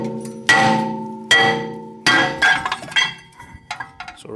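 Several sharp metallic clinks ring out from a rear brake rotor on a 2008 VW Passat being tapped loose, spaced about a second apart, then a flurry of lighter taps, each with a bright ringing decay.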